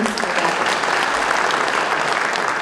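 An audience at a National Assembly member's 2024 constituency report meeting in Seogwipo, Korea, gives steady, loud, sustained applause from many hands.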